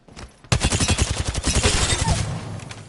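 Rapid automatic gunfire from a player strafing in Apex Legends: a sustained, loud, close burst of fast shots that starts abruptly after a brief quiet lead-in and runs to the end.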